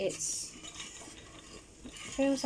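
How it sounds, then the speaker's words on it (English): Metal spoon clinking and scraping against a pot while stirring rosehip syrup, with a brighter scrape near the end; close and fairly quiet. "So I'm going to keep just stirring it away here."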